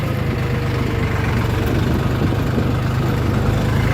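A tractor engine runs steadily while driving, a loud, constant low rumble close by with an even throb and no voices.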